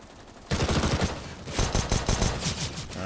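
Rapid pistol shots in a CS:GO match on the Nuke map start abruptly and crackle in quick, sharp bursts from close by, with no talk over them.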